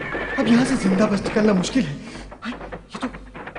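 A cartoon horse whinnies while someone speaks over it, with faint hoofbeats mixed underneath the voice.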